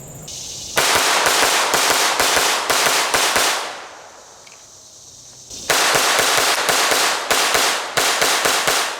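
A Walther PPQ 22 pistol fires Aguila and CCI Mini Mag .22 rounds at a range: a rapid string of sharp cracks, then a pause with ringing decay, then another fast volley, loud and close.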